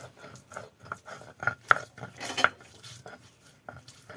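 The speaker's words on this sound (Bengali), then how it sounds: "এখন আমি রসুন বেটে নিচ্ছি" Fresh garlic cloves ground into paste by hand in a village kitchen, a steady rhythmic scraping and grinding of stone on stone with occasional sharper knocks, close and moderately quiet.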